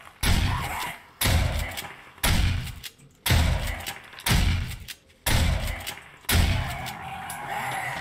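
Shotgun blasts in the zombie survival game 7 Days to Die, Alpha 17: seven loud, heavy booms spaced roughly a second apart, each with a short rumbling decay.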